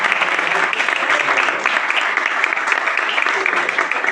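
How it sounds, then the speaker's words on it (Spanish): Audience applause after a lecture on Cádiz carnival comparsa poetry at a school cultural week, sustained even clapping from a seated crowd lasting several seconds. "darle un fuerte aplauso"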